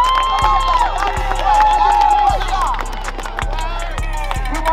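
Crowd at a 12U youth football championship cheering and clapping for the Bears, lively shouts and applause over a sustained tone, with regular low thumps and an announcer-style voice mixed in.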